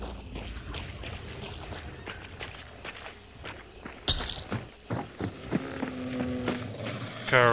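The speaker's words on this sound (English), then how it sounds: "Hear lots of footsteps, potentially on the ground level here near me." Footsteps from a multiplayer video game firefight, landing in a scattered irregular rhythm against a low ambient hum, with a few sharper impacts and brief tonal game sounds toward the end.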